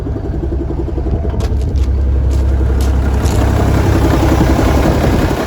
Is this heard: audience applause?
no